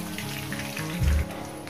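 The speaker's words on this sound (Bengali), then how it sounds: "মানে আলুটা আগে 2 মিনিট ভেজে নেবো, তারপর ফুলকপিটা দেবো" Potatoes and cauliflower fry in a pan for a poppy-seed dish, making a soft, steady sizzle with a brief low stir or thump partway through and no talk.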